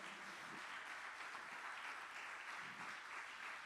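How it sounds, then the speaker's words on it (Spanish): Applause from a church congregation during a Sunday service forms a faint, distant wash of clapping that holds steady throughout. "¿Cuánto le pueden dar un aplauso al Señor en esta mañana?"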